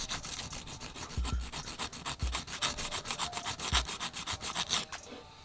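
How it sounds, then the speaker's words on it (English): Quick, rhythmic rasping strokes of a nail file shaping a polygel nail, rubbing back and forth, close and steady, with a few soft thuds between passes. "I'm going to take my file again and shape it up."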